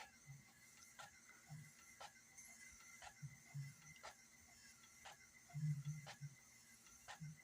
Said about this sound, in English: look at that printer just printing away